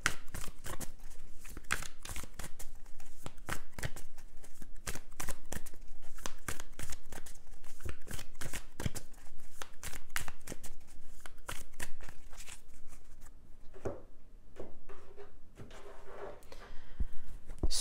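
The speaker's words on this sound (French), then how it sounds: "On va recouvrir les cartes." Tarot cards are shuffled and laid out by hand in a run of quick, close crisp snaps and slides, each card flick sharp and distinct, with a brief quieter stretch near the end.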